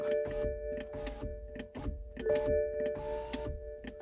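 A BMW E90 power window motor whirs as the glass moves down after a regulator replacement, with repeated mechanical ticks and a humming drone, close up inside the car and no speech.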